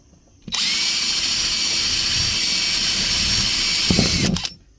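A power drill whirs steadily for about four seconds drilling holes in a plastic bin, loud and close, starting abruptly and cutting off at the end.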